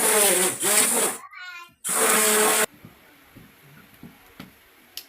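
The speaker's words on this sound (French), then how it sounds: "je vais utiliser mon mixeur plongeant pour accélérer la crasse" An immersion blender mixing moringa soap batter gives a loud, steady whirring buzz in two bursts separated by a short pause, and then stops.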